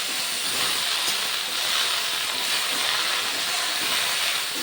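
Bottle gourd leaves fry in a pan with a steady, broad hiss that holds even and loud from start to finish, with no talk.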